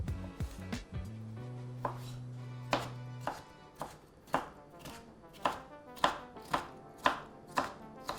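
A knife chops pickle on a cutting board, starting with quick light taps and then settling into a steady series of about a dozen sharp, close, separate strikes, with a brief low tone in the opening seconds.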